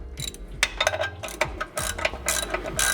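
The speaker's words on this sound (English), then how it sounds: "I'm just using a ratchet, and again, I'm watching what's going on" A hand ratchet clicks in quick bursts of repeated pawl ticks while tightening the bell housing bolts on a T5 transmission, close and fairly loud with short pauses between strokes, and no talking.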